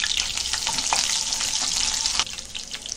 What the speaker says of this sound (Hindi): ये तेल गरम हो रहा है। अब ये देखो लहसुन डालेंगे।